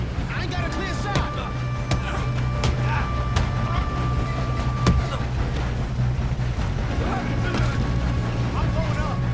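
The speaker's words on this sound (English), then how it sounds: "We have to stop this train." A moving train in Red Dead Redemption 2 rumbles with a steady low, rolling drone throughout, overlaid by sharp clanks and shot-like cracks, while voices talk over it.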